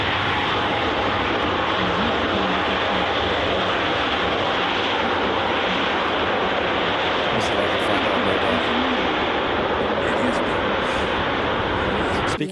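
An all-blue ITA Airways Airbus A330 flying over near Manchester Airport, a loud continuous engine roar filling the whole stretch, with voices talking over it.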